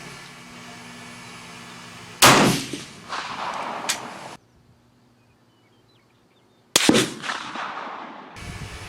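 Two loud, sharp rifle shots firing 7.5x55 Swiss cartridges at an outdoor range, each with a ringing decaying echo, separated by several seconds of near silence.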